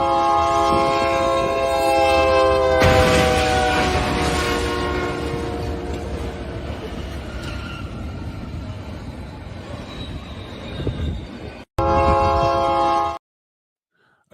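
A train rumbles past while its horn blares in a long sustained chord, then fades as the wagons clatter on, loud and near, before a sudden cut and a short burst near the end.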